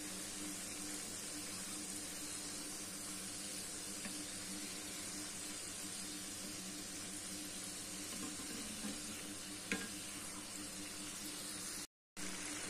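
Sweet somas deep-frying in hot oil and being turned with a wire, a steady low sizzle and bubbling hiss running continuously with one brief clink near the end.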